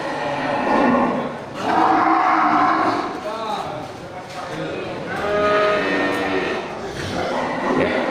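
Cattle lowing loudly and repeatedly at a busy livestock market in Geurugok, Aceh, with several drawn-out moos close by and people's voices murmuring in the background.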